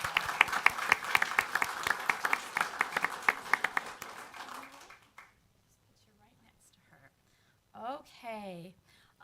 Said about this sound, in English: So big round of applause for Bentley.